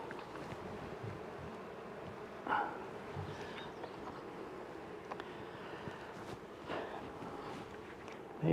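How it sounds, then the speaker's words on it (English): Honey bees buzz as a hive set up with a Hogg half comb honey system is opened outdoors. A soft, steady hum runs throughout, broken by a few light knocks and handling sounds. "Let's see what we get when we open these guys up."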